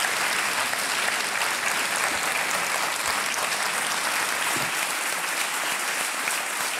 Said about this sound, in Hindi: जोरदार तालियां बज जाए इनके लिए, क्योंकि चेक आ रहा है आपके नाम